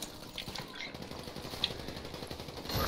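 Gunfire in the video game GTA comes as steady rapid bursts of automatic fire at moderate loudness, building slightly toward the end.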